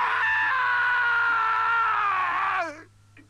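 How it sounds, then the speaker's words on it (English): A man's long, sustained scream of terror, used as a sound effect in an audio drama of Conan Doyle's The Mummy, rises sharply, holds loud and steady for over two seconds, then breaks off and fades. "he gathered his courage and screamed out in terror"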